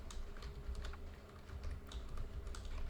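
Rapid typing on a computer keyboard, a continuous run of light key clicks and taps at close range, steady for the whole stretch with no talking.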